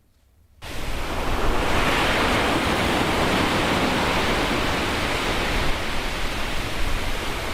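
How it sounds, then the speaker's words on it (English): Ocean surf on the beach along Marine Parade in Napier, a loud, steady broadband wash of breaking waves that starts abruptly after a brief quiet moment and keeps going without pause, with no voices. "The waves crash on the beach along Marine Parade in Napier"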